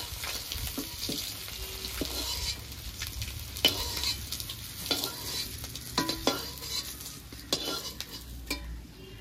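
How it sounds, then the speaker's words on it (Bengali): Eggs fry in hot oil while a spatula turns them, producing a continuous sizzle broken by sharp metal scrapes and taps against the pan, close and fairly quiet, with no talking. "এবার ভালো করে নেড়ে চেড়ে ডিমগুলোকে ভেজে নেব"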